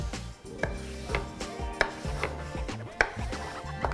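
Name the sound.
cutting potatoes for fries with a new knife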